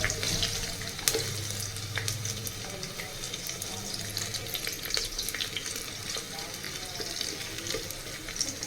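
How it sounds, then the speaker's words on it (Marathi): Bay leaves frying in hot oil in a pan as the first step of a vegetable biryani, giving a steady, moderately loud sizzle and crackle with no talking. "तर यामध्ये आता आपण तमालपत्र सगळ्यात पहिले भाजून घेणार आहोत"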